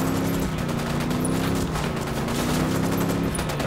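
Sustained gunfire in Ghost Recon Wildlands forms a dense, continuous fusillade of overlapping shots with no break. It stays loud and even throughout, close and busy.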